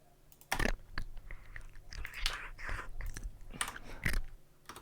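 Crunchy bites from a cat chewing, a run of close, sharp crunches and snaps with two louder bursts standing out, no talking.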